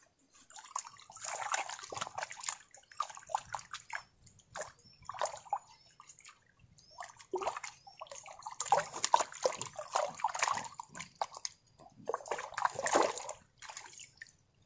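Water splashing and sloshing at a hut in an outdoor garden, irregular bursts of splatter and trickling that come and go, fairly faint with quiet gaps between.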